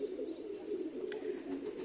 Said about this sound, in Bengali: আমার কবুতরগুলো কিন্তু একে একে সবগুলো এখন নেমে আসতেছে